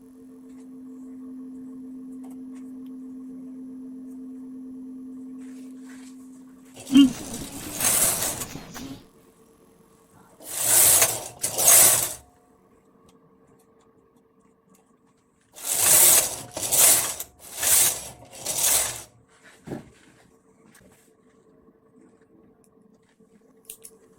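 An SK280 knitting machine knitting a few plain rows, heard as several close, loud swishing carriage passes in quick bursts after a steady low hum, with quiet gaps between strokes and no talking.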